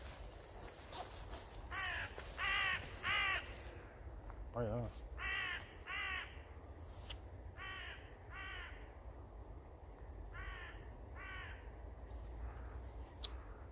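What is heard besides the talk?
crows cawing in the distance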